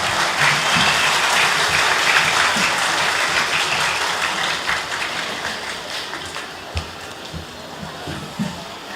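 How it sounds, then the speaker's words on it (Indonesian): Audience clapping at an Islamic boarding school awards ceremony for top students during a Haul and Maulid Nabi gathering: dense, loud applause from a large crowd that gradually thins, with scattered louder claps near the end. "Tepuk tangan semua."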